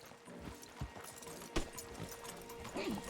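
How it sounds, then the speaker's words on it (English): Horses in Red Dead Redemption 2 walk with steady, hollow hoof clip-clops and light tack rattles, fairly close, with a soft snort near the end. "Marston, you're gonna tether him up to Javier's horse"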